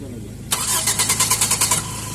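A car engine with a hard-starting, gasoline-flooding fault cranks in a rapid pulsing rhythm after a sudden onset, close and loud, with a steady low hum underneath.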